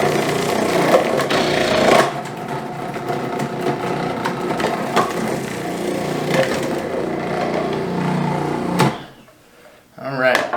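A Cuisinart food processor fitted with its slicing blade cuts through a cucumber, giving a loud, busy clattering whir that runs for several seconds, then dips to near quiet before starting up again.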